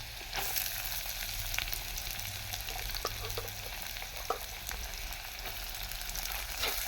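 Onions frying in a clay pot over a wood-fired stove, a steady close sizzle with occasional sharp crackles and pops throughout, no voices.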